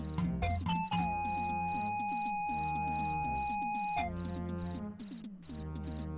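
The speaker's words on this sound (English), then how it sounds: "Crickets." Stylized cricket chirps from The Gene Machine PC video game, a steady electronic pulsing chirp pattern layered with bright synthetic tones and a sustained beep, moderately loud with no talking.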